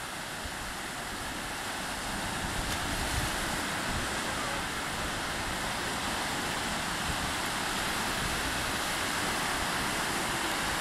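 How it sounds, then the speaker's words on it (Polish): Light waves wash steadily against the shore near the pier at Gdynia Orłowo on a warm evening, a continuous broadband surf roar with wind over the microphone and no pauses. "Lekka fala na morzu"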